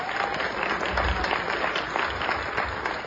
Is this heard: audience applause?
yes